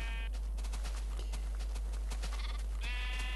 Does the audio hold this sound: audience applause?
no